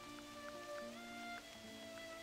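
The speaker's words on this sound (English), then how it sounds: "I'm not gonna see through this rain." Rain falls steadily in a multiplayer video game, a faint soft patter with occasional droplet ticks under sustained tonal game music.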